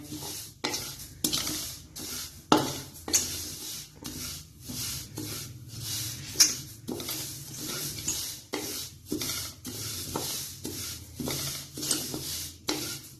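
A spoon stirs flaxseeds (alsi) dry-roasting in a pan, making steady rhythmic scraping strokes about twice a second over a faint continuous sizzle and crackle, close and moderately loud, with no talking.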